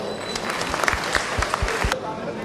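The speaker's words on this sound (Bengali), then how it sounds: "সুতরাং ওনার জন্য একটা হাততালি দেন" Audience applause at a mobile application boot camp in Rangpur, a steady wash of many hands clapping with sharper individual claps standing out, continuous and moderately loud throughout.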